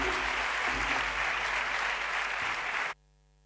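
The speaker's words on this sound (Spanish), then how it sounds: "Vamos a recibir con un fortísimo aplauso, que estamos deseando escucharla, a Victoria Cardasso." Applause from a seated audience welcoming a speaker onto the stage, a dense, even wash of clapping that holds steady for about three seconds and then stops abruptly.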